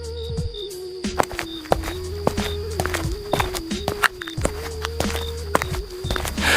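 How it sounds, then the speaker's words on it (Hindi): Footsteps in an animated story approach in a steady, regular series of soft thuds, heard over a background music drone. "तभी अचानक कदमों की आहट सुनाई दी।"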